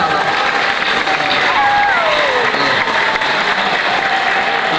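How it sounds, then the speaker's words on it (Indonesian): Audience at an SMK Sultan Agung Tirtomoyo school festival bursts into sustained applause, dense steady clapping filling the hall, with a voice briefly calling over the noise and a few whoops. "Sekali lagi kita tepuk tangan dulu untuk SMK Sultan Ageng Tirtawaya"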